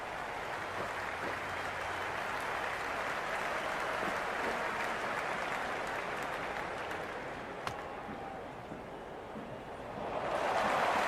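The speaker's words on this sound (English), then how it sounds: "the crowd is at near bursting point at today's play" A cricket video game's stadium crowd roars and applauds in a long sustained wash of cheering, easing slightly midway before swelling louder again near the end, with no clear speech.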